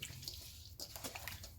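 Water is poured from close by into a pickled fish seasoning mix of Nam powder, a steady splashing trickle with a brief break partway through.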